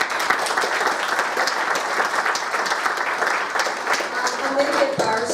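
A theatre gala audience applauds warmly, dense sustained clapping filling the hall at steady volume for the whole stretch, with a faint voice rising near the end.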